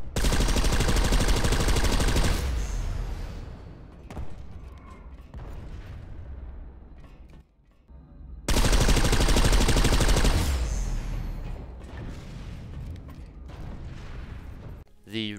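Orion light machine gun from Planetside 2 firing from the hip at a rapid 750 rounds per minute in two long, loud sustained bursts with a pause and brief quieter activity between them.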